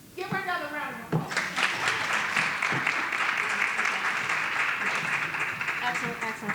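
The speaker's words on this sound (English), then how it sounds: "Give her another round of applause." A meeting audience gives a school principal another round of applause: a voice at the start, then sustained, evenly dense clapping for about five seconds.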